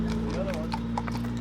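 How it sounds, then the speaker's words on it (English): A horse clip-clopping along a road, its hoof knocks spaced irregularly amid a steady low hum from a car interior, with someone talking over it. "Whose man's horse is this?"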